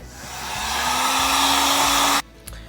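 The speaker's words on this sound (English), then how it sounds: "I'm gonna use my heat gun and I'm gonna dry it" Heat gun blowing over wet watercolor paint, a loud steady whooshing hiss that swells over about two seconds and cuts off abruptly, followed by a small click.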